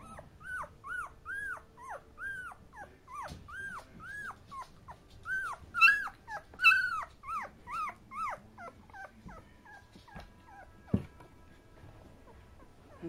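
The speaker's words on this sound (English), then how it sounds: "You're barking your head." A dog lets out a long, loud series of high, rising yelps and whining barks at close range, very rapid and insistent and briefly peaking midway, then trailing into quieter calls.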